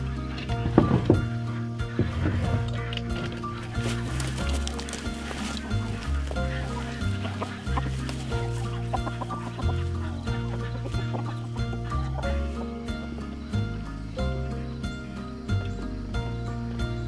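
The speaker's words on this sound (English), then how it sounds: "For now, let's feed the chickens." A flock of farm chickens clucks and cackles continuously at morning feeding. The calls come moderately close and overlap across the whole stretch, with no talk.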